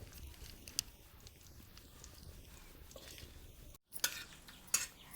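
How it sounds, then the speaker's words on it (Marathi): Grated coconut frying in plenty of oil over a wood-fired village stove gives a steady, faint sizzle, broken by a few sharp utensil scrapes and clinks near the end. "चांगला असं आपण मस्त तळून घेऊयात खोबरं"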